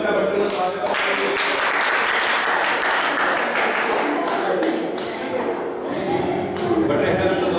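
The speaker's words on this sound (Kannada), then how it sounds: "ಬನ್ನಿ ಚಪ್ಪಾಳೆ ಮೂಲಕ ಭಟ್ರನ್ನ ಸ್ವಾಗತ ಮಾಡಿ." A school Diwali gathering gives a guest a loud, dense round of crowd applause, with voices talking over it throughout.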